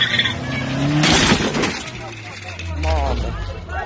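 A car accelerating hard and speeding off after running over a bicycle outside a restaurant during a brawl, engine revving and sweeping past amid crunching and clattering noise, with people's voices shouting over it.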